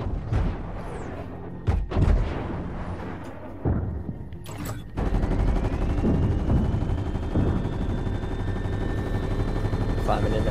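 Gunfire in the Fortnite Collision live event: a few sharp shots early on, then a heavy sustained burst of rapid fire and rumbling effects, loud and close, with a rising whine over the top.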